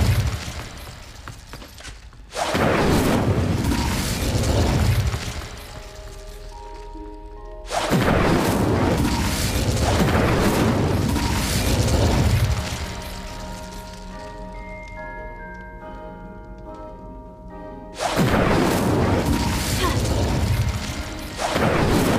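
Incendio fire spell cast repeatedly in Hogwarts Legacy on Nintendo Switch: three loud, broad whooshing fiery bursts with low rumble, each lasting several seconds, separated by quieter ringing, tonal magical tails.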